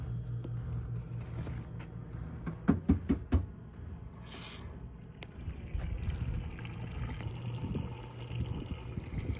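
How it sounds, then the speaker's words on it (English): Water running into a 100-gallon tank at a desert rock spigot post in Arizona, a steady close rush and trickle with a short burst of knocking clatter partway through. "We like to fill up the 100-gallon water tank"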